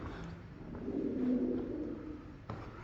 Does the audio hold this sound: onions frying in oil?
no